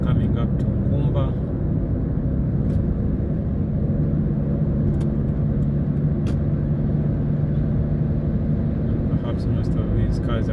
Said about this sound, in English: Perhaps most of these cars are racing towards the airport.